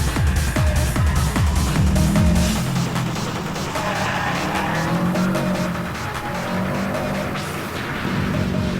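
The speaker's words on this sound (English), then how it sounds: "Here the red Evo 5 goes out for its first proper timed run." A red Mitsubishi Evo 5 race car on a timed run, its engine roaring close and loud with rising revs and squealing tyres, rasping continuously throughout.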